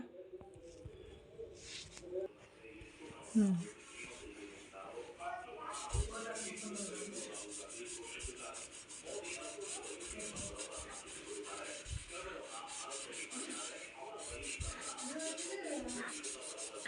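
A cotton cloth soaked in nail polish remover is rubbed hard against a painted wall, giving continuous close scrubbing and swishing strokes with a few brief knocks, faint background sounds and occasional soft voice.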